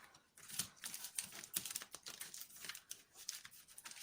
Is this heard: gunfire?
no